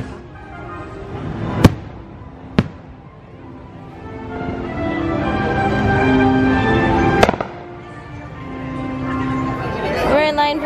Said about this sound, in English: The fireworks woke her up.